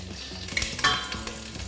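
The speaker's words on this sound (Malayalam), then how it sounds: "2 ടേബിൾ സ്പൂൺ നെയ്യ് നമുക്ക് ഇട്ട് കൊടുക്കാം." Two tablespoons of ghee sizzling in a hot pan for vegetable biryani, a brief hissing crackle with light metallic clinks of a utensil against the pan.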